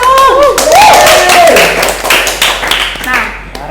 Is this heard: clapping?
yes